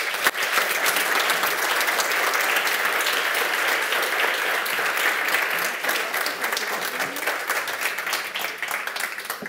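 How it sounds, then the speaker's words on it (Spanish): An audience applauds after a lecture at an inaugural event, dense sustained clapping filling the room loudly and evenly, then gradually thinning toward the end. "Agradecemos a Tadashi con este fuerte aplauso"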